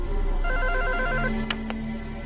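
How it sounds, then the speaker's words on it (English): A telephone rings in the horror game Five Nights with Froggy 2, a clear repeating electronic ring in short bursts, loud and close over a steady low background hum. "let's go through the phone ring"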